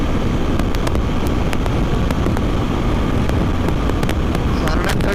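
A new 2025 Bajaj Pulsar NS400Z motorcycle cruising at 130 km/h around 7,000 RPM on a highway, heard as a steady, loud rush of engine drone and wind buffeting with no break throughout.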